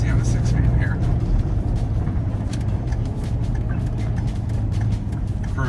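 A 2004 Dodge Ram SRT-10 single-cab pickup with a Viper V10 and six-speed manual drones steadily from inside the cab as it pulls under throttle, a low engine rumble running beneath ongoing talk.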